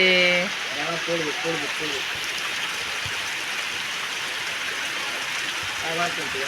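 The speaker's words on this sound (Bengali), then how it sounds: "আর মশল ধারায় বৃষ্টি হচ্ছে দেখো কি বৃষ্টি হচ্ছে" Heavy rain pours steadily outdoors over a field where football is being played, a dense, even hiss throughout, with someone talking briefly at the start and end.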